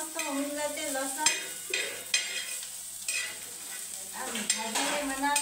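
Onion and garlic sizzling in oil in a pan, a continuous close frying hiss broken by repeated stirring scrapes and light clinks of a utensil against the pan, with no talking.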